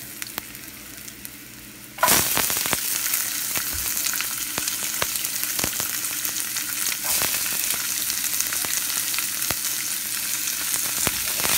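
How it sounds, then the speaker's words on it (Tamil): Garlic dropped into hot oil in a pan while cooking brinjal masala, bursting into a loud, dense sizzle after a quiet start and crackling steadily up close with scattered pops and no speech. "பூண்டை சேர்த்து வதக்கிக்கலாம்"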